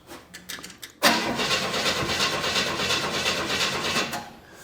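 A 1970 Chevy Nova on a weak battery makes a few faint clicks, then the starter cranks loudly and steadily for about three seconds before cutting off, up close with no talking.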